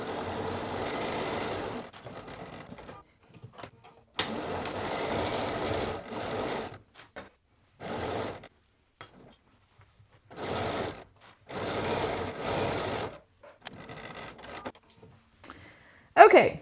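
A sewing machine runs a straight seam at 3.0 mm stitch length on a Stanton hoodie, in several loud bursts of stitching separated by short pauses, close and alone.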